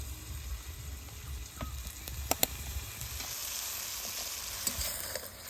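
Turmeric, salt and Kashmiri chilli powder sizzle and fry in a pan after a little water goes in, a steady hissing crackle with a few sharp pops and stirring scrapes, close by and alone.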